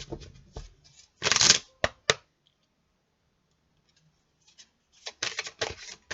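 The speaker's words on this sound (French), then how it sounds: "Je vais prendre une carte du tarot des animaux" Animal tarot cards being shuffled by hand: two bursts of crisp, close riffling and flicking separated by a quiet pause, with no talk.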